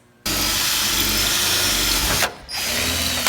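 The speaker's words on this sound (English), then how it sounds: "This smaller drill is gonna drill the hole for the rivets." A smaller drill bores rivet holes in a car body panel, a loud continuous motor whine running nearly unbroken for three seconds with one brief dip in the middle.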